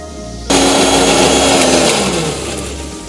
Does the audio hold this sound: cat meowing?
no